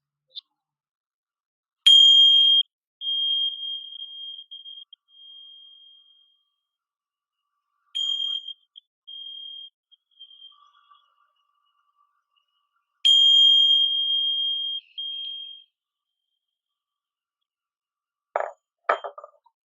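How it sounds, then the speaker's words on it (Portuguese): A meditation bell struck three times, each bright ringing strike decaying slowly into silence, well spaced and clear, followed by a brief faint rustle at the end. "quando eu terminar de soar o sino 3 vezes"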